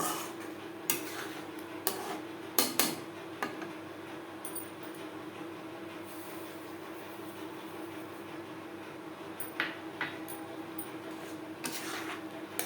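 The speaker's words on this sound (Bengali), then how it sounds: "অল্প অল্প করে সুজি মেশাতে থাকবো আর নাড়তে থাকবো" Semolina being stirred a little at a time into milk in a bowl over a low gas flame: repeated spoon scrapes and clinks against the bowl, with a low steady hum underneath and no talking.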